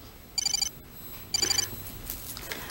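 Two short bursts of a phone ringtone trill, each under half a second, sounding fairly quietly indoors against a low background hiss.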